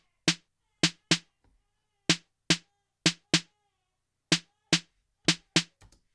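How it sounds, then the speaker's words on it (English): Snare drum sample from a dancehall beat, struck about ten times in a sparse, uneven pattern, each hit a sharp, crisp crack with a short decay, loud and isolated against silence. "We have a snare."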